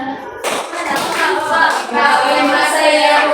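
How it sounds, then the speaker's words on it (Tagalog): Hands clap along to a children's action song sung in Filipino during a classroom teaching demonstration, a steady run of claps mixed into the group singing. "Kung ikaw ay masaya, pumalakpak."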